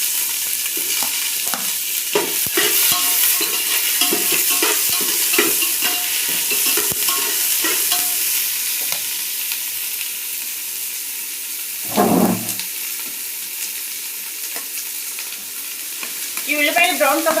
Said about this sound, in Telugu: ఈ ఉల్లిపాయలు బ్రౌన్ కలర్ వచ్చే వరకు వేయించుకుందాము.